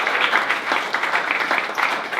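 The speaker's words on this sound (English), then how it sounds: "a big round of applause for the Pittsburgh Foundation for having us here tonight" An evening event audience applauds together, a dense, steady wash of clapping close and loud for a couple of seconds.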